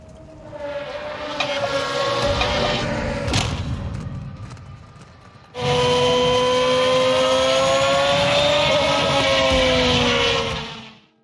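Race cars in the video game Modern Warfare 2 speed past on a track, their engines whining and revving loudly; one pass fades out, then a louder, closer car roars by and cuts off.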